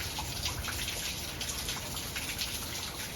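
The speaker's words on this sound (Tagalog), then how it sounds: "Oh, I love the sound of the rain. It's a Monday today and it's raining." Steady rain falling, a dense continuous hiss of drops pattering on surfaces with occasional louder drips, even and unbroken throughout with no voices.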